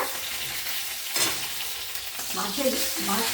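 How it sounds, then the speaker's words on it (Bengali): A snakehead fish head sizzles in hot oil in a pan, a steady crackling hiss broken by brief scraping stirs and louder spattering bursts near the end. "মাছের মাথাটা একটু কড়া করে ভেজে তুলে রাখলাম।"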